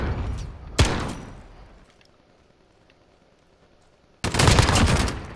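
Gunfire from a pistol versus LMG match in Call of Duty Modern Warfare: a sharp loud shot, a decaying tail into near quiet, then a dense burst of sustained firing at the end.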